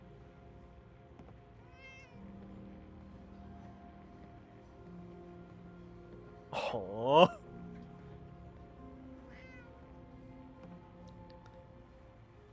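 A cat in the Fallout 4 video game lets out a single drawn-out, wavering meow, loud and close, rising above a quiet musical backdrop, while a person makes a brief soft remark.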